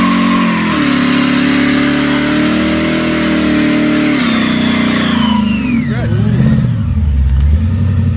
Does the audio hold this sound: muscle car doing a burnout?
yes